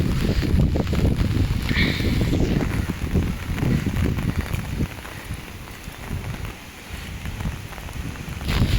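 Heavy cyclone rain pouring down over floodwater in a Jaffna village, a dense, close hiss of drops with low rumbling surges that ease slightly midway before building again.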